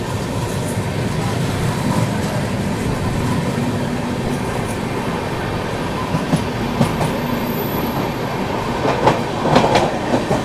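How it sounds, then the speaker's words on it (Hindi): The Mithila Express, running from Howrah to Raxaul, rolls past at Barddhaman Junction with continuous rumbling and rhythmic clickety-clack of wheels on rail joints, steady and fairly close, with no voices. "हावड़ा से चलकर रक्सौल तक जाने वाली मिथिला एक्सप्रेस को यहाँ पर अभी सियालदह राजधानी एक्सप्रेस ओवरटेक कर रही है।"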